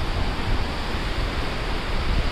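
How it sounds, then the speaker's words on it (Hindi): Vasudhara waterfall near Badrinath, a very high fall, gives a dense, steady roar of rushing water, broad and constant, with no voices over it. "बहुत ऊंचा झरना है"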